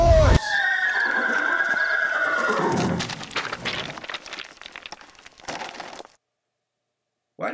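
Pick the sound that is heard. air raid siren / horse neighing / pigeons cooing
horse neighing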